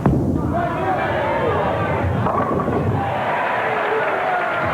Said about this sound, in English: the fans cheer for Steve Cook